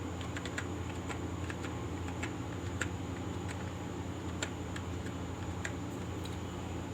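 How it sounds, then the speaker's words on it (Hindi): An Aadhaar number being typed on a computer keyboard while filling in an online income certificate form: a quiet run of light, irregular key clicks over a faint steady hum. "आधार कार्ड फिल करते हैं।"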